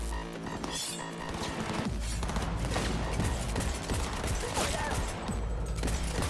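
Rapid bursts of video game gunfire in Cyberpunk 2077: Phantom Liberty crackle and pop almost continuously, with heavy thuds and crashes mixed in, dense and fairly loud throughout.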